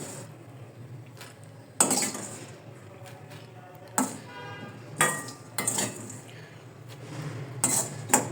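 Panjiri ingredients roasting in a pan, with a low background hiss broken by several sharp spoon knocks and scraping clinks against the pan at irregular intervals, no talking.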